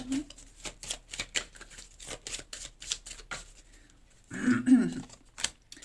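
Tarot cards being shuffled and drawn, a run of quick papery riffling flicks with short pauses between them, close by, while a French-speaking voice talks partway through.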